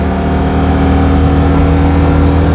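Flat twin engine of a Citroen 2CV driving around Ely, a loud, steady, buzzy drone with a constant low throb that fills the whole moment, close up and with no voices.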